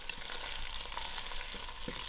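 Carrots and potatoes roast in a pan for vegetable korma with a steady, close hiss of oil sizzling throughout, no voices present.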